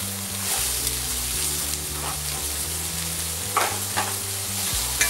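Onions and carrots sauté in a pan, giving a constant close sizzle with intermittent stirring scrapes and a low steady hum underneath, no voices heard.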